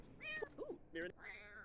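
A cat in The Sims 4 meows several times in quick succession, clear close calls with rising and falling pitch, ending in a longer drawn-out mew.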